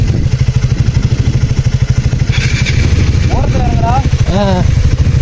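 A track motorbike ridden off-road at Z-point in Chikmagalur, its engine droning with a steady rhythmic thump close by throughout, while people talk over it.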